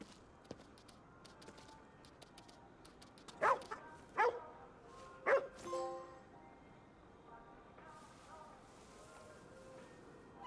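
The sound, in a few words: dog barking in the video game Ghostwire: Tokyo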